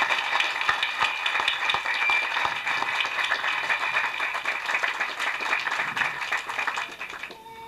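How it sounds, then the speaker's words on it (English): At a 1992 building dedication ceremony for Stark Hall at Winona State University, an audience gives the deans a sustained round of applause, dense clapping that carries evenly and then tapers off at the end. "Could we give them another round of applause?"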